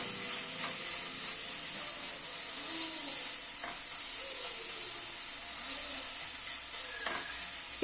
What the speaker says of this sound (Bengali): সব দিয়ে চিকেনটাকে আবার একটুখানি নাড়াচাড়া করে নিচ্ছি